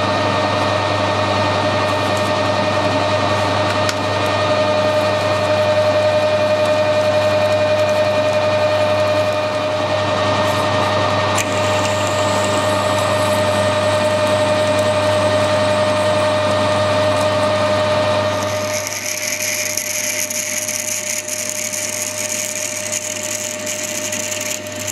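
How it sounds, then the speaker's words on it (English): A centre drill bores into a steel spindle turning on a lathe, giving a steady loud machine drone with a thin sustained whine that holds unbroken for most of the span before the tone shifts abruptly near the end. "Start off with a centre drill as normal."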